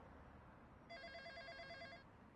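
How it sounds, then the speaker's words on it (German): Telephone ringing in the video game EMIO, a single electronic trill lasting about a second, faint against a quiet background with no speech. "Öffnete ich das Fenster und da klingelte das Telefon."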